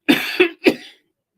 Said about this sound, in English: I've coughed so much I can taste blood when I cough